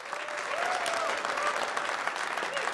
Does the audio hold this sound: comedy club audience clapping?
yes